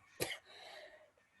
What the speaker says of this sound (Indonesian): Mohon maaf ya, lagi batuk.